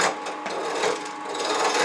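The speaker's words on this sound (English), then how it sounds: "I'm going to cut these little branches off" Small branches being cut off a piece of wood, a continuous rasping, scratchy cutting sound with slight rhythmic strokes, close and steady throughout.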